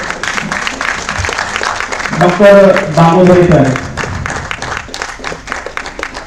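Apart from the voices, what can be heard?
applause at an award ceremony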